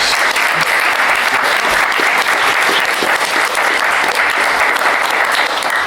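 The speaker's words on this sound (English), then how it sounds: "Give them a round of applause." Sustained applause from a live audience at a comic convention panel, steady dense clapping filling the whole stretch at close range with no pauses.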